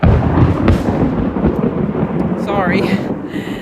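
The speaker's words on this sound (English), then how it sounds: "big thing of lightning and thunder" Thunder rumbles loudly and continuously through a lightning storm, with a heavy low roll and crackling bursts close overhead, a brief faint voice-like sound near the end.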